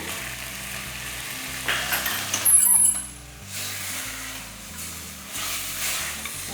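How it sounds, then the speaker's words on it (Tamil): Mutton pieces sautéing for a Chettinad curry, a steady close sizzle with intermittent stirring scrapes and light metallic clinks against the pan. "நல்லா இதை வதக்கிடலாம்"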